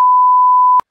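A steady electronic censor tone, loud and pure, covers a swear word in a casual sibling chat. It holds for most of a second and then cuts off abruptly into silence.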